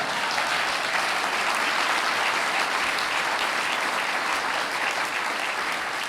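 A large lecture audience claps at the Mayflower Hotel in Washington, a loud, even, sustained wash of applause with no break and no voices over it.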